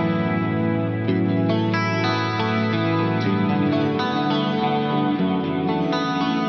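An electric guitar played through a Fractal FM9 with heavy chorus, a big Aurora stereo delay and large cathedral reverb, chords ringing out in a shimmering, wide wash of sustained, overlapping notes.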